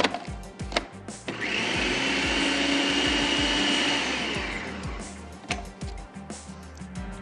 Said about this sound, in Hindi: डबल रोटी और प्याज, तमाम चीज़ें बहुत अच्छे से चॉप हो गई हैं